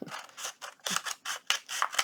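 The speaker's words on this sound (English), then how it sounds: "Here we go again with the scissors and me." Scissors snip through paper for sewing and junk-journal ephemera, a rapid series of about seven short crisp cuts in a steady rhythm, close and fairly quiet with no talking.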